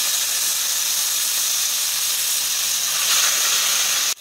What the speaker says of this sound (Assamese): অলপ সামান্য ভাজি ল'ব লাগিব মাছখিনি